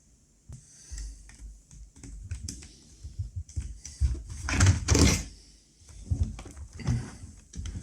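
Plastic clicks, taps and scraping from an Asus K53E laptop as its battery and back panel come off during a full disassembly, close and fairly loud, with a busier burst of handling in the middle and no talk.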